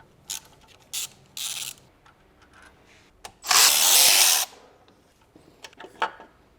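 Bolts being loosened on the VANOS unit of a BMW E46 330i: scattered close metallic clicks and ratchet-like bursts, then one loud sustained whirring buzz of a power tool lasting about a second, followed by a few lighter taps.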